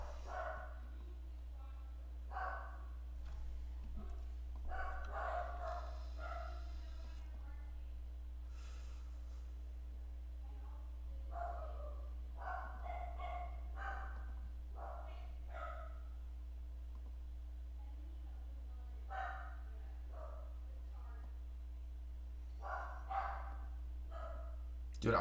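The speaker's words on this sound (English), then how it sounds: "I apologize for the dog barking," Dogs barking indoors, repeated short barks in scattered bursts, fairly faint behind a steady electrical hum and someone talking.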